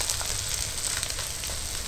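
Turmeric, Kashmiri chili and cumin powder frying in oil while stirred, a steady close hiss and sizzle that holds unbroken throughout, with no voices.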